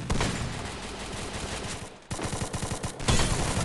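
SKS rifle fire in the Free Fire mobile battle royale game, dense rapid gunshots and overlapping bursts, loud and continuous with a short pause near the middle, no talking.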